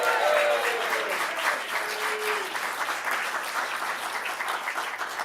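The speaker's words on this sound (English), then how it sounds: "give Gary a round of applause." Comedy theater audience applauding steadily, a dense wash of many hands clapping at close range for several seconds, with no talk over it.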